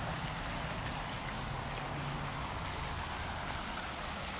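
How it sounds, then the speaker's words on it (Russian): Steady broadband rush of a waterfall in the Topanga mountains near Los Angeles, a continuous hiss of falling water holding even throughout with no voices. "Водопад."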